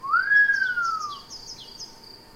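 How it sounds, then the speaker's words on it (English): A single rising-then-falling whistle in the Asagao Academy video game, clear and fairly close, followed by a few faint short chirpy notes as it fades. "Also, that whistle right there? That was a good whistle."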